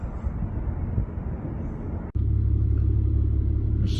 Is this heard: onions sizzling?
no